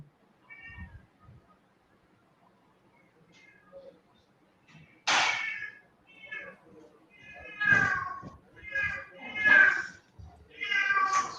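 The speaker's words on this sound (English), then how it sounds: "I'm sorry, there is a cat." A cat meows several times in close, drawn-out cries that rise above a quiet room, while a person speaks between the calls.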